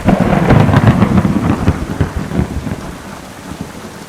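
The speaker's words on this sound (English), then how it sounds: "this is some 9th generation Thunder" A thunderstorm in the video game Kingdom Come: Deliverance II, with heavy rain hissing steadily and deep rolling thunder that swells loudly early on and then fades into the continuing downpour.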